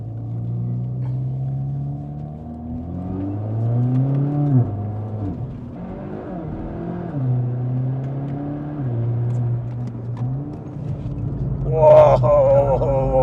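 A Geely Group racing car in track mode with traction control off drones steadily, its engine pitch climbing and dropping through repeated revs as it laps a track, with a brighter burst of noise near the end.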